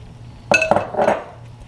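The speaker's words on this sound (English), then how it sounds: "So here goes the sugar and the lemon juice." Sugar and lemon juice tipped into a plum jam pan, a sharp metallic clank and rattle of pan and utensil lasting about half a second, then a softer scrape before it falls quiet.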